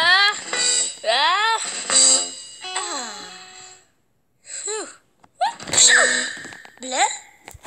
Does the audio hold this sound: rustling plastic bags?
no